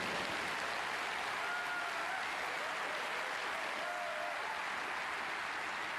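A snooker crowd at a German Masters semi-final applauding a shot, sustained and dense clapping that holds at an even level for the whole stretch with no break.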